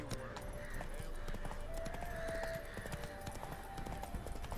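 Roach the horse gallops in The Witcher 3, a steady rapid clip-clop of hooves over the game's ambient music, with someone talking over it.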